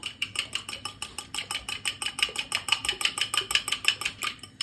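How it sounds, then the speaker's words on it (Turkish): A utensil whisks three spoonfuls of yogurt in a bowl for soup, making rapid, steady clinking strokes against the bowl, close and regular, about five strikes per second. "Şurada 3 kaşık yoğurdum var. Çırpacağım şimdi ondan."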